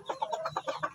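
A Black Siamo Asil chicken gives a quick run of close, soft clucks in a brief burst.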